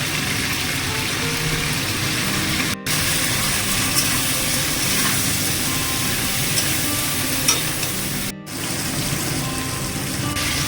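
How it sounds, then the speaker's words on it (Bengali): Potato and cauliflower pieces frying in oil for a Bengali rohu fish curry with cauliflower and potato, a steady, loud broadband sizzle with stirring throughout and two brief dropouts, no talking. "মাছের ঝোল বানানোর জন্য আলু আর ফুলকপি ভেজে নিতে হবে।"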